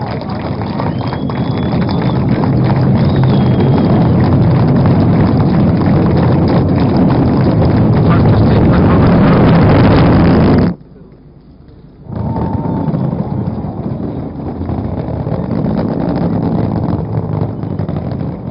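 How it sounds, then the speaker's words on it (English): A GSLV Mk III rocket lifts off carrying Chandrayaan-2, a loud, dense broadband roar that holds for about ten seconds, cuts out briefly into near quiet, then returns slightly weaker and continues. "We have a liftoff."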